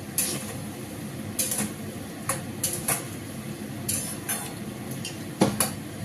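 Spoon stirring kofta curry in a pan after sugar is added, with repeated scraping and clinking against the pan over a soft, steady background.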